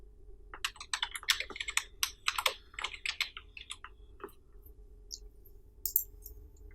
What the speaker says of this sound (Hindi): तो मैं EIN एंटर कर देता हूँ।